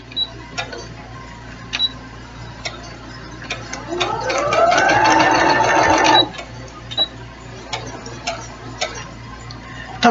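A sewing machine stitches quilt strips in one steady burst of rapid mechanical whirring lasting about two seconds. Faint ticks and clicks come before and after it, and there is no talk.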